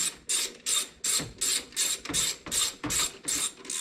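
A hand ratchet snugging the bolts on the throttle position sensor of a 1995 Ford F150, close and loud, with about ten quick bursts of clicking in an even back-and-forth rhythm.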